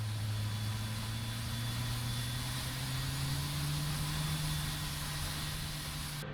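AH-64D Apache helicopter engines in the DCS World flight simulator spool up during startup, a steady loud turbine whine and low rumble slowly rising in pitch, heard alone without talk.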